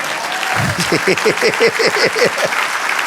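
Rhythmic clapping in steady beats at a church worship service, loud and close, with a crowd noise underneath.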